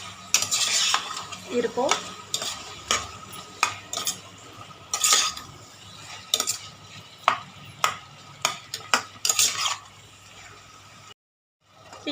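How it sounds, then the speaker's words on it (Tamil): Goat liver being sautéed in a pan, with repeated sharp metal spatula clanks and scrapes over a low sizzle, a brief spoken word, ending in a short silence. "ஈரல் வந்து ஓரளவுக்கு நல்லா வதங்கிடுச்சு"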